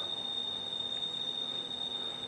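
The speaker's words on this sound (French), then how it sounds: "Plus je m'enfonce dans la jungle, plus j'entends des moteurs et des cigales." Cicadas drone in a Penang tropical rainforest, a continuous shrill buzz with a steady high whine holding level throughout, no one speaking.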